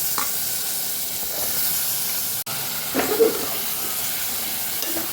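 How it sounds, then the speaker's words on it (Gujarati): Guvar beans and potatoes with turmeric and red chili powder sautéing in a pan, with a close hiss of sizzling oil, a few stirring scrapes and a brief break in the sound partway through. "સરસ આપણે સાતળી લેશું અને ગુવાર ને બટેકાને ઉમેરી દઈશું આમાં"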